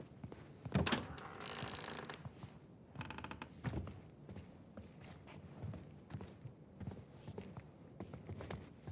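A door creaks open in the Uncharted 4 video game, a brief grinding creak with a thunk, followed by soft footsteps and light mechanical clunks, quiet and close.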